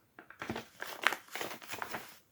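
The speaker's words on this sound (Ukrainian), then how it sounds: "Ось так ми їх вкладаємо потім ось так от загортаємо." Paper packaging crinkles and rustles in several short bursts as a knitted gift of socks is wrapped up, close and fairly quiet with one sharper crackle midway.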